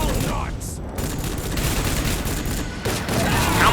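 Rapid gunfire bursts from the PlayStation 2 shooter Rogue Trooper, dense and continuous across the whole moment with a few sharper booms mixed in, loud and close, with a voice speaking partly underneath.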